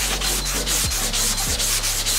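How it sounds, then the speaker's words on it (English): Steady, close scraping of a sanding block rubbed back and forth over body filler putty on a car panel, continuous strokes with a rhythmic pulse and no talking. "So I'm just blocking away, sanding the putty now."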